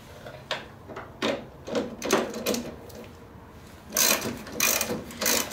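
Ski-Doo R-Motion track tensioner bolt being turned by hand gives a series of distinct ratcheting clicks, close and moderately loud, in irregular bursts with short gaps.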